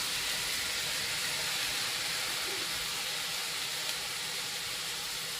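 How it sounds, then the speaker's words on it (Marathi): Green spring onion tops sauté in a pan for a roasted-eggplant bharit, giving a steady, soft sizzling hiss that stays even and fairly quiet throughout with no talking. "आणि ह्या कांद्याच्या पातीला छान असं परतून घ्यायचं"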